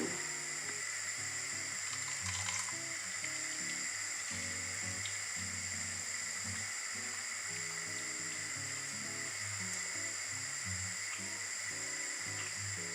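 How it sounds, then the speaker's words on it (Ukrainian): Squid goes into near-boiling salted water, giving a steady hissing, bubbling simmer with a constant tonal hum from the kitchen, no talking. "В майже кип'ячу підсолену воду викладаю кальмари"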